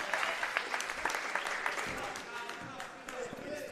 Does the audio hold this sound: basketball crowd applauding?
yes